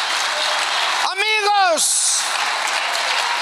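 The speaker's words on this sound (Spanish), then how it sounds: "Dale fuerte ese aplauso al Señor." A congregation at an international pastors' retreat in Las Vegas applauds in a steady, broad wash of clapping, with a voice speaking briefly over it.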